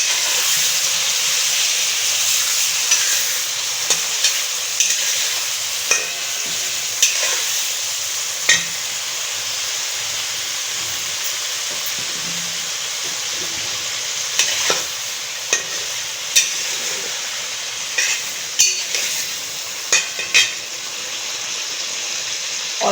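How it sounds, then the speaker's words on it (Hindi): Chicken frying in a karahi, a steady loud sizzle and hiss with occasional sharp clinks and scrapes of stirring throughout. "थोड़ा सा मैं इसको फ्राई करूँगी, इसकी वाइटनेस लाऊंगी"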